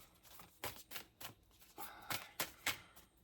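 A deck of tarot cards being shuffled, a series of soft, papery riffles and flicks in quick uneven bursts, fairly quiet and close, with no talking.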